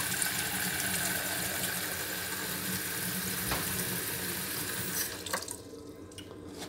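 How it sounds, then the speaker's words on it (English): Warm water runs steadily from a kitchen tap into a saucepan, a loud, close, continuous rushing stream that then tapers off as the tap is turned down near the end. "fill it up halfway, just halfway up, with warm water from the tap"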